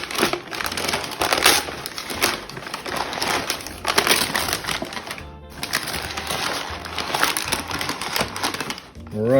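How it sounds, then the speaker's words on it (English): Stiff butcher paper crinkles and crumples loudly as smoked beef ribs are unwrapped, a busy run of rustling and crushing bursts with a brief pause midway. "Let's get them out of this paper and onto the cutting board."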